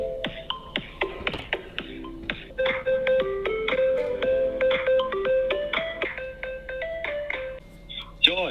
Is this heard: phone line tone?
yes